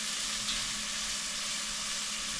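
Onion frying in a pan: a steady, dense sizzle with a continuous hiss throughout, close and even, with no voices.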